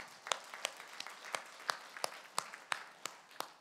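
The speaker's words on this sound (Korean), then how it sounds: "하나님께 박수를 올려드리십시다." A church congregation claps in praise to God, sharp claps landing at an even, steady pace, quiet and somewhat distant, with no voices over them.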